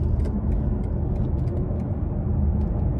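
A 2024 BMW i5 M60 accelerating in sport mode, heard from inside as a steady, loud low rumble and road hum that stays even throughout, with faint higher clicks on top.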